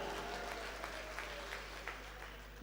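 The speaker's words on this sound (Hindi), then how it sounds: "तो ताली बजाओ एक बार जरा।" An audience at a kavi sammelan poetry gathering at a Dussehra fair claps together in a steady burst of applause over a low electrical hum, with a few louder claps standing out, heard from a moderate distance.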